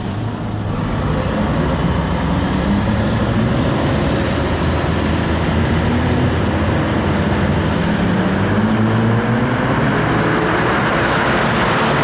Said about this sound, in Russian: Перед нами вокзал.